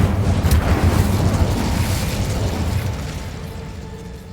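The Incendio fire spell erupts in Hogwarts Legacy, a loud rumbling whoosh of flame with a heavy low boom that slowly fades out over a few seconds.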